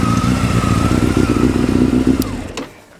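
A 1997 Honda CBR600 motorcycle engine idles loudly and close with a steady, slightly uneven throb, then cuts off near the end, leaving quiet.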